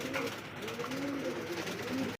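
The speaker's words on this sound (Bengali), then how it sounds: "চমৎকার দুই জোড়া কবুতর আছে" Pigeons kept for sale by a breeder, a family group of two pairs with young, softly cooing in steady low murmurs near the listener, without talk.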